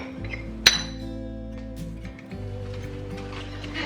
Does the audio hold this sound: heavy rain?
no